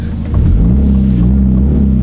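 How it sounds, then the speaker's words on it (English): A Subaru BRZ with an exhaust leak revs loudly up close. The engine rises in pitch and holds a rough, throaty drone, with a rapid ticking puff from the leak running steadily over it. "there's no way I'm going to be seen driving around with an exhaust leak"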